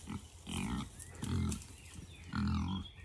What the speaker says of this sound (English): These are our pigs.